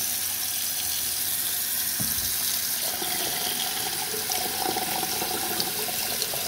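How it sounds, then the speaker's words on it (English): Cold tap water runs steadily over a scored glass bottle being cut by thermal stress, a continuous hissing splash with a brief knock about two seconds in. "Now we're gonna put a cold water."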